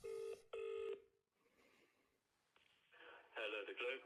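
A telephone call is placed: two loud dialing tones sound first, then a quiet pause with faint background noise, and a phone ring builds toward the end.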